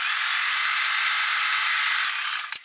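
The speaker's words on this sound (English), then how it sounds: "I'm going to sew these together." A sewing machine stitches raw-edge crazy quilt blocks together, giving a steady, fairly loud whirring run with faint mechanical ticking that carries on for over two seconds and then stops abruptly.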